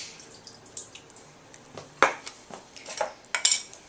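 Canned corn for a veggie chilli soup is drained, giving light metallic clinks and taps of a can and dishes with faint dripping water in short irregular bursts.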